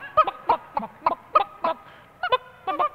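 Someone vocally imitates a chicken's clucking in a rapid series of short, punchy bursts, with a brief pause before a final pair of clucks.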